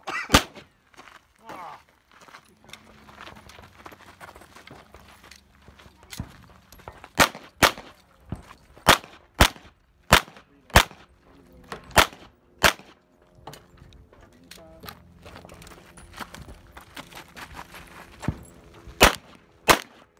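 Gunshots at an outdoor shooting practice, sharp, loud cracks that start spaced apart and turn into a steadier series of about a dozen more. People talk and call commands between the shots.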